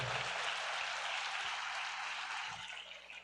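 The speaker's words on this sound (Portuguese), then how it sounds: "Dá uma salva de palmas para as mães aí" A church congregation at a Sunday morning service gives applause for the mothers, a soft, continuous hiss of many hands clapping that fades slightly toward the end, heard from a distance with no speech.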